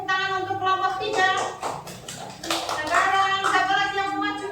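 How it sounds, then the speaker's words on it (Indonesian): Classroom students clapping for a group of classmates, a busy patter of hands mixed with children's voices and chatter throughout. "tepuk tangan untuk kelompok 3"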